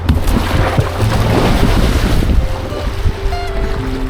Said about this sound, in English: let's get to paddling